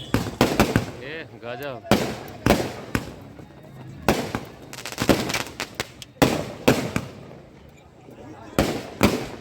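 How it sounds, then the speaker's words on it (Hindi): Firecrackers bursting during a village wedding procession in Mithila: loud, sharp bangs in rapid clusters and separate volleys, with excited voices talking between and over the blasts. "देखियो तो फटक्का फायरिंग हो रहल छे।"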